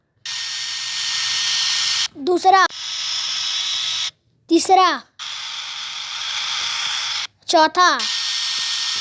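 A hair dryer sound effect plays as three separate steady, loud whooshing blasts of about two seconds each, with a voice counting aloud in the short pauses between them.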